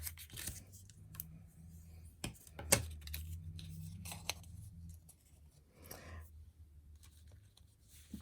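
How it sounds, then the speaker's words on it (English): A bone folder creases papercraft pieces in close, quiet strokes, giving short scraping and tapping sounds scattered irregularly across the moment. "And I do use my bone folder and crease these."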